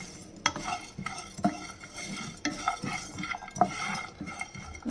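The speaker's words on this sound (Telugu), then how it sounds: "అప్పుడు ఉల్లిపాయ ముక్కలు వేసి ఫ్రై చేసుకుందాం" Onion pieces fry with spice powders for fish curry, under repeated utensil scrapes and light clinks against the pan, with a soft sizzle beneath.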